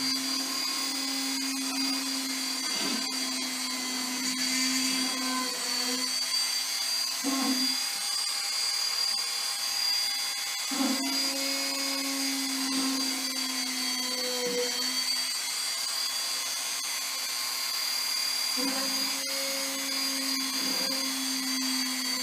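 Drill boring pilot holes while building a tarantula enclosure, a steady high whine that runs in long stretches, drops in pitch under load and briefly stops between holes, close and fairly loud.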